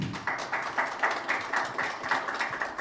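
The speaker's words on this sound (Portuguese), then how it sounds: "Palmas para o Dr. Bernardo" Audience clapping at a political forum, a steady rhythmic run of claps with regular pulses, moderately close and with no talk over it.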